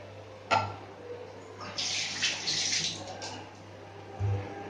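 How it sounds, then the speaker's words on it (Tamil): A short splash of a tumbler of water poured in one go into a pot of tamarind curry, with a soft thud before and after, close by and fairly quiet. "இன்னும் ஒரு டம்ளர் தண்ணி ஆட் பண்ணிக்கலாம்"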